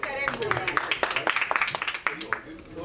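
Scattered hand claps from an audience at a film press conference, sharp and uneven, ringing out over people talking in the room.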